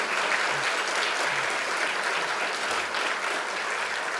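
An audience at a community foundation annual awards event claps continuously with dense, loud applause that fills the room.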